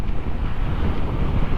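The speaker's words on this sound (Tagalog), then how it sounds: "Mahangin." Strong wind blasts continuously against the microphone while riding a motorcycle, a loud, low, buffeting roar with no pauses throughout.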